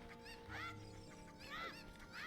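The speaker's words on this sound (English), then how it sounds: "We got 3 chickens over here." Chickens (cuccos) from the video game Ocarina of Time 3D give a few short clucking calls at moderate level, over a steady low in-game background hum.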